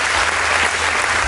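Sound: applause

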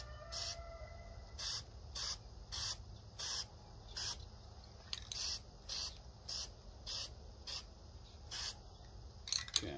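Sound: spray painting woodstove parts

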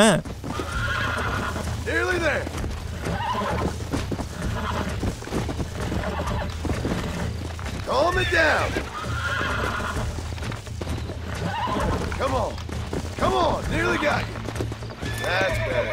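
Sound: horse neighing and galloping in video game Red Dead Redemption

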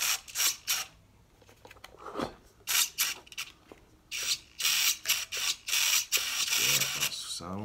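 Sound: RC car steering servo moving during test, Tamiya Terra Scorcher

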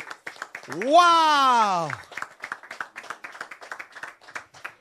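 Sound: congregation clapping and applauding in church

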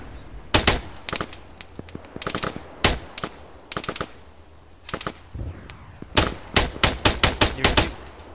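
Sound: gunfire in the video game Arma

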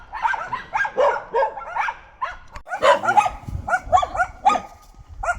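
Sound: dogs barking

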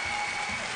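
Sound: audience applause for the band

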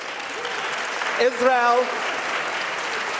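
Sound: audience applause

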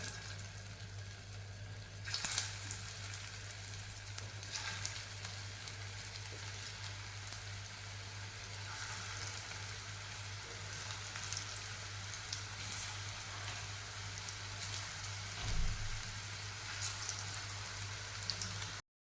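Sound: poha besan tikkis frying in hot oil in a kadhai

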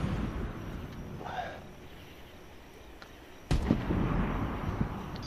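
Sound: rail gun firing in a video game

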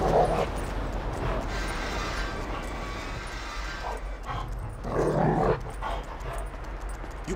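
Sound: dog barking in video game

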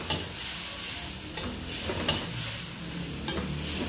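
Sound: beef and broccoli stir-frying and sizzling in a pan

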